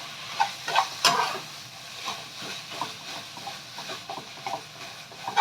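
Pickled mustard greens being stirred in a frying pan with fish sauce, oyster sauce, sugar and seasoning powder, giving soft scraping and stirring strokes over a low, steady sizzle with a few louder clatters early on.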